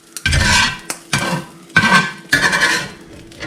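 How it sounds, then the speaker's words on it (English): Spatula scraping and scooping corned beef hash out of a pan, four distinct loud metallic scrapes close up with short pauses between them and a faint sizzle. "I'm just going to scoop everything out."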